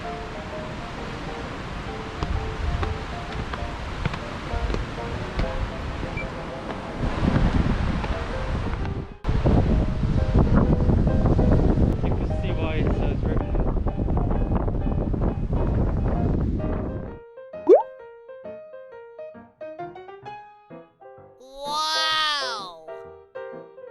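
Steady wind blowing hard against the microphone outdoors on Jeju Island, loud and rumbling for most of the clip, then dropping away to quieter sounds near the end.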